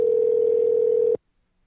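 Steady telephone dial tone heard alone while placing a call, loud and unbroken for just over a second before cutting off abruptly into silence.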